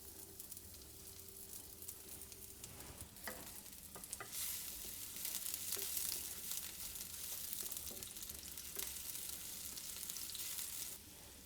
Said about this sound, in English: Our olive oil is hot, the garlic goes in.